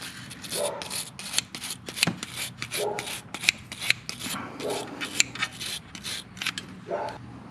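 Scrubbing corrosion off a Can-Am Spyder F3 rear brake caliper pin, a close rhythmic scratchy rasping of quick repeated strokes with short pauses.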